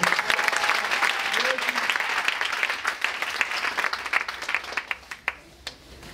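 A church congregation applauds the Lord in sustained, dense clapping that fills the room, thinning out toward the end into a few scattered claps.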